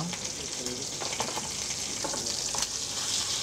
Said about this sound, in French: Et dès que la plaque elle chante, on y met l'agneau.